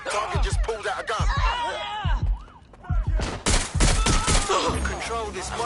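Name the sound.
gunfire in the video game Watch Dogs Legion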